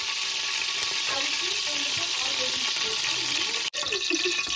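Cooking oil and cow ghee sizzle steadily in a pan while mutton biryani is being made, giving a constant hissing crackle close by.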